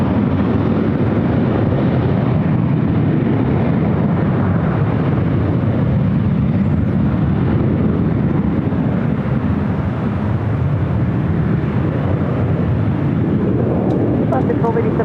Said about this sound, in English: You're looking at Southwest Airlines Flight 446 heading to Kansas City on the 737-800.